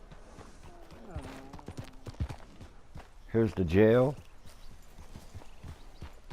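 A horse's hooves clip-clopping at a walk in Red Dead Redemption 2, soft and regular under a man's speech, with a short louder voice burst midway.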